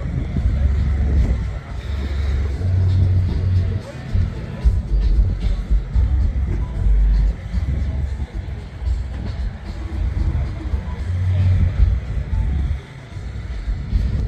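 Classic racing cars at the Kyalami Festival of Motoring rumble with low engine drone and passes, mixed with wind buffeting on the microphone and crowd ambience, continuous and fairly loud.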